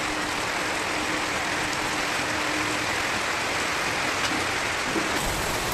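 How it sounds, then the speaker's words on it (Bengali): Heavy afternoon rain pours down in a steady, dense hiss that stays constant throughout, close and fairly loud, with no voices over it. "দুপুরে ঘুম থেকে উঠে দেখছি প্রচণ্ড বৃষ্টি পড়ছে"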